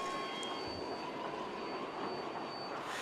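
Steady rumbling roll of a roller coaster train on its track in a virtual reality horror ride game, a continuous broadband rush with a faint high whine, no voices.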